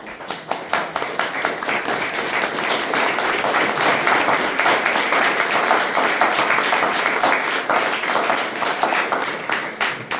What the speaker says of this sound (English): Thank you, audience, for holding your applause for an hour.